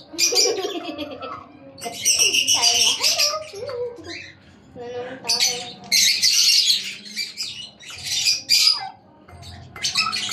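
Pet turkeys calling with loud, harsh squawking bursts and raspy gobbling notes that come in rapid clusters, close by, with a few brief gaps between calls.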